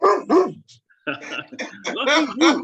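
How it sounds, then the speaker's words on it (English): A dog barks and yips in short, loud bursts nearby, mixed with a person speaking briefly. "if you hear some barking in the background,"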